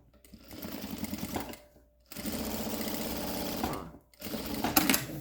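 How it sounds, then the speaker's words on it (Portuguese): A sewing machine running straight seams on the pockets of a fabric jewelry organizer buzzes in three loud, steady bursts separated by short pauses, close up, with brief handling clicks between runs. "Vai costurando os bolsinhos, bonitinho."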